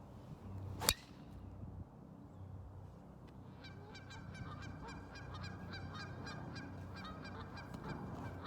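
Geese honk repeatedly in short, bright calls over a low outdoor helicopter rumble on a golf course, with one sharp swishing crack near the start.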